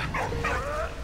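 A dog in a World War I video game gives short, whimpering yips and a soft bark, close and fairly loud over a low in-game background rumble.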